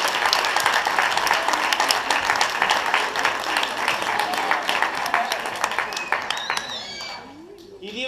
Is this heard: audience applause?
yes